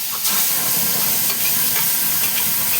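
Fish paste hits hot mustard oil in a pan, a loud steady sizzle and hiss at close range, with faint stirring scrapes and no speech.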